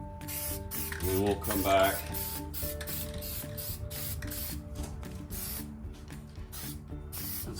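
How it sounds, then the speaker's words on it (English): A can of Plasti Dip sprays in short hissing bursts onto Nissan Xterra Pro 4X emblems, the close, quiet hisses broken by brief pauses, while someone speaks briefly at the start. "and spray another coat"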